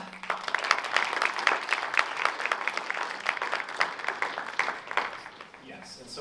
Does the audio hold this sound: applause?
yes